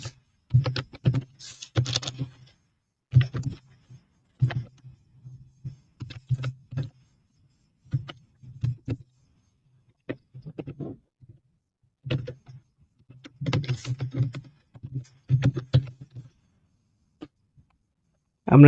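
Fingers type on a computer keyboard in close, irregular bursts of keystrokes, separated by short pauses.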